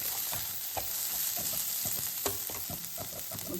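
A spoon steadily stirs rice with turmeric in a frying pan while making tamarind rice, giving continuous scraping and clinking over a soft sizzle, with no talking.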